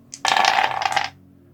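Several dice clatter and tumble together in one dense rattling burst lasting under a second during a Boon and Bane dice game, then settle into quiet, close and fairly loud with no talk.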